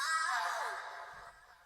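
A demon's dying cry from the video game Shin Megami Tensei: Nocturne, a breathy, descending wail that fades over under two seconds, heard alone.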